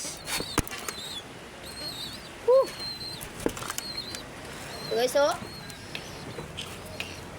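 Bursts of wing flapping from pigeons, a couple of quick flurries amid cooing and someone talking nearby.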